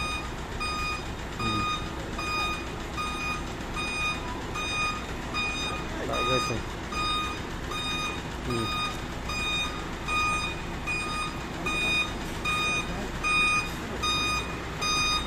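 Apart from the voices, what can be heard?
large truck reversing with back-up beeps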